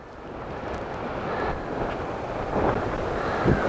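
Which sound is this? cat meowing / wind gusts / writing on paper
wind gusts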